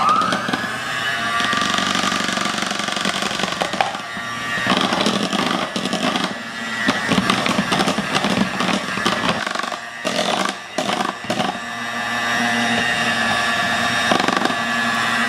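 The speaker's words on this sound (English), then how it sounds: "So now I'll beat my whipped cream until it forms like a soft peak" Electric mixer beating heavy whipping cream with confectioners' sugar toward soft peaks, a loud, continuous motor whine that shifts in pitch, with rattling and bumping against the bowl.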